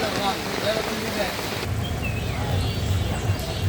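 Steady rain falling at a riverside village market, a dense even patter close by, with faint background murmur and occasional distant bird calls.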